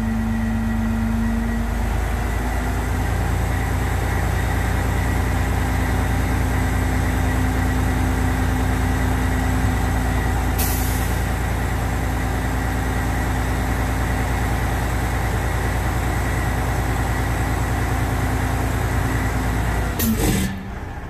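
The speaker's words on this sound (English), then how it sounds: "The trailer starts going up." An end dump truck's engine idles loud and steady in a deep, low rumble while the trailer raises, with a constant hydraulic drone throughout. A brief clank comes midway and a shift occurs near the end, with no talking.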